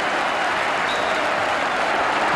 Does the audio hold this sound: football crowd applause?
yes